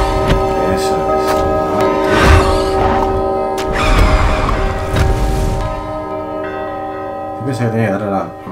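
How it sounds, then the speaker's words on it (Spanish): A bell rings out in the video game GRIS, its chimes layered over sustained musical tones and a loud, dense game soundscape with clanging hits. "La campana ha sonado."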